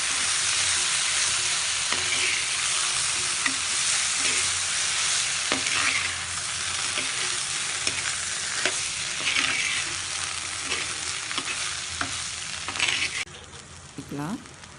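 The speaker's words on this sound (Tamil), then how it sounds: "நல்லா கலந்து விட்டுக்கோங்க" Cooked moong dal (green gram) being stirred in a pan for sundal, a steady scraping and sizzling that runs continuously and close, with light clinks of the spoon against the pan.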